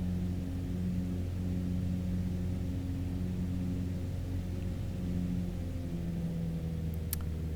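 A light aircraft's engine droning steadily in Microsoft Flight Simulator 2020, a constant loud low rumble with a smooth hum and no clear rise in pitch, alone with no talking.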